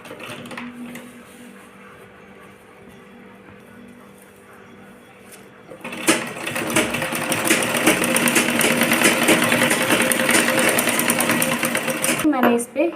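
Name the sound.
sewing machine stitching skirt net and lining edges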